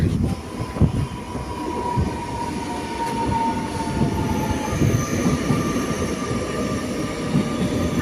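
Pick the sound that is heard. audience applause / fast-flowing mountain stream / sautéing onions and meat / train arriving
train arriving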